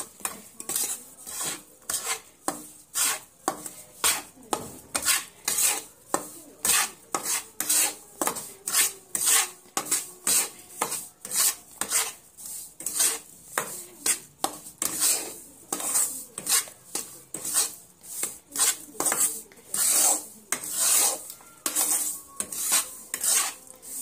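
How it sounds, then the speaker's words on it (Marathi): Repeated scraping and clinking of a spoon against a pot while sugar is stirred into a maida barfi mixture, a steady fast rhythm of strokes, close and fairly loud with no talking. "आता परत हे एकजीव करून घेऊ आपण"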